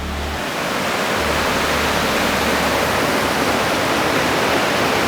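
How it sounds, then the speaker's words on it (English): A hidden fern-lined waterfall near Perth roars steadily, a dense, loud, unbroken wash of falling water heard up close with no other sounds. "This waterfall is incredible. You can just hear the roar of it."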